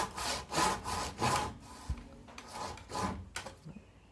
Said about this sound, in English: we just need the tenon saw to get those cuts nice and flat